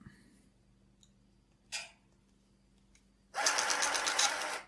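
A small printer interface for a TRS-80 pocket computer printing, with faint clicks and a short mechanical burst, then a louder, sustained buzzing print run close by.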